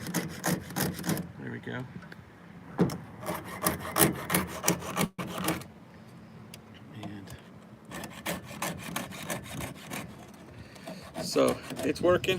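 Hand file sharpening a chainsaw chain, rhythmic rasping strokes in short bursts with pauses, close and fairly quiet, with someone talking between strokes.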